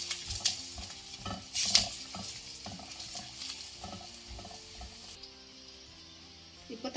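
Curry leaves and turmeric sautéing in a pan for tadka dal: soft sizzling with repeated scrapes and stirs of a utensil against the pan, a few sharp metallic clinks, fairly close and without talk.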